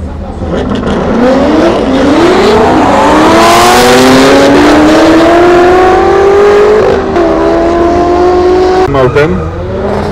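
Chevrolet Corvette C8 and other cars run a quarter-mile drag race on an airfield. A loud, close engine roar climbs through rising gear pulls, with a shift near the end, while a voice talks over the noise.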